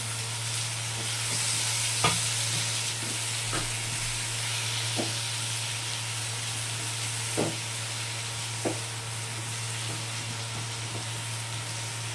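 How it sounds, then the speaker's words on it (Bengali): Continuous frying sizzle as ginger and tomatoes cook in a pan with chopped chillies, punctuated by several sharp spatula knocks against the pan at irregular intervals, with a low steady hum underneath. "একটু নাড়াচাড়া করছি আদাটা একটু ভেজে এর মধ্যে টমেটোগুলো দিয়ে দিলাম"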